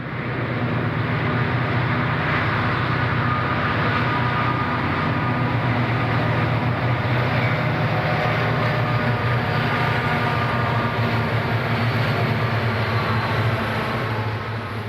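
Conrail SD40-2 diesel locomotives running as point helpers, a steady, loud low rumble and engine drone sustained without a break, no voices.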